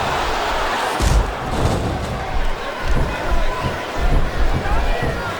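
Wrestling arena crowd in WWE SmackDown vs Raw 2007 roaring as a constant loud wash of cheering, broken by periodic heavy slams and thuds from the ring.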